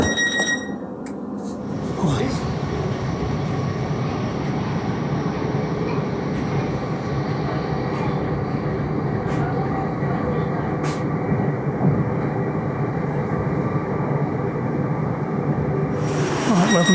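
A train at Eynsford station platform gives a steady loud rumble and hum for most of the time, with brief clicks and a rise in high hiss near the end.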